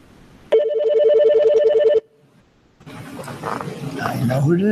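A telephone rings once over an opened call-in line at a Toms River Board of Education meeting, a loud steady electronic trill lasting about a second and a half, followed by a pause and then someone speaking.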